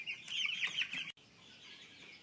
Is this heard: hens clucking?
yes